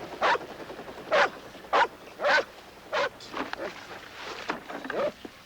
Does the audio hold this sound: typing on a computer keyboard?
no